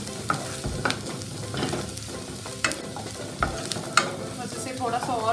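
Onions browning in hot oil for egg fried rice, with a steady sizzle broken by sharp scrapes and clacks of a spatula stirring them around the pan, close and with no talking.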